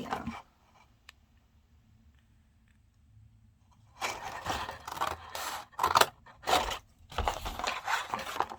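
Scissors cut through a small cardboard box in a run of close, crisp snips and crunches after a quiet pause, several cuts in quick succession.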